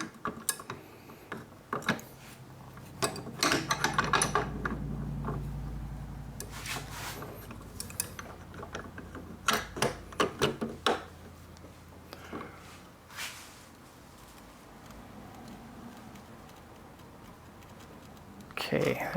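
A torque wrench tightens a part during AR-15 assembly, giving a string of close, light ratcheting clicks and small metallic taps in uneven clusters, with a person talking between them.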